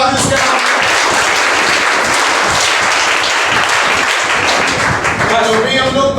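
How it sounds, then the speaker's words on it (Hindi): An audience at a coaching institute's talent award ceremony gives the class topper a long burst of loud, steady applause, many hands clapping together at close range. "ताली बजा दीजिए इसके नाम"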